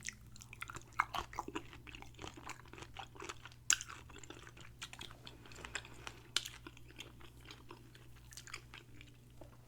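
Tiny shrimp being chewed close up, with quiet, irregular crunchy bites and soft mouth sounds repeating steadily and faintly throughout, with no talking.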